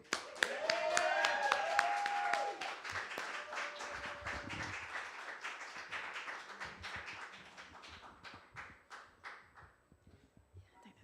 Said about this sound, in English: can y'all join me putting a big round of applause together for BPoetic